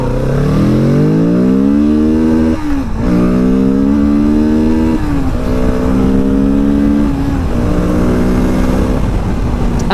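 A motorcycle engine pulls hard up through the gears, climbing in pitch in repeated rising sweeps with brief dips at each shift, loud and close under steady road noise.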